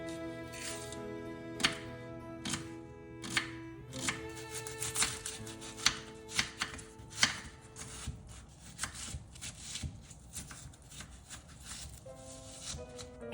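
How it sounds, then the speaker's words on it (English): A knife chops celery and onion on a cutting board in a series of sharp, close knocks, irregular at first and then quicker and denser, with no talking. "First thing we're gonna do is dissect the celery and the onion."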